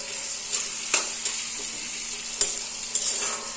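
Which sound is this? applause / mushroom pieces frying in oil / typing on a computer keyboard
mushroom pieces frying in oil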